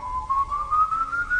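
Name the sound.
eerie whistling in the woods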